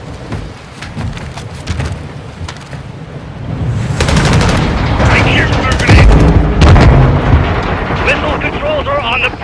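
Heavy gunfire from a Call of Duty: Modern Warfare II firefight on a rig with container cover, rapid machine-gun bursts and booming shots building into a loud, dense barrage with shouted voices mixed in.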